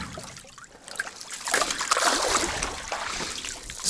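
Water trickles and splashes as sheep hides are rinsed in a tub, a close, uneven sloshing and dribbling that builds slightly louder midway.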